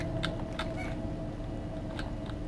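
A cat in the video game The Elder Scrolls IV: Oblivion gives several short meows against a steady game background hum. The meows are spaced across a couple of seconds.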